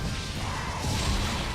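Monster Hunter Generations combat as a jumping attack crashes down onto monsters: dense, continuous clattering impacts and mechanical thuds, loud and close throughout with no voices.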